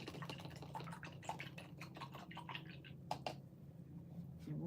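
A paint brush is swished and rinsed in a container of water while making decoupage crafts, giving soft watery sloshes and drips with a few sharper splashes, close and fairly quiet, with no talking.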